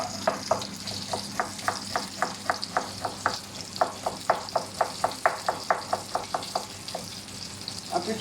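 Finely chopped onion frying in a little grapeseed oil, a steady sizzle broken by a quick, regular series of spoon scrapes and stirs across the pan, close and without talking.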